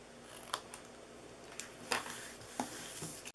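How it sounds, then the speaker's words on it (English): Scissors cut into the top flap of a paper Christmas reindeer box, giving several soft, close snips at uneven intervals over a quiet room hum, with no voices. "I'm going to also cut into this top part."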